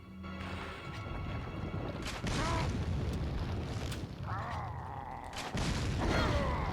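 Repeated explosions in the video game Resident Evil Village: several heavy booms and crashing bursts in succession, loud and close, with game effects and a rising whine between blasts.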